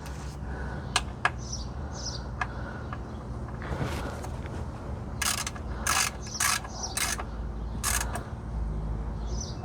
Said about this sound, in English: Use our ratchet.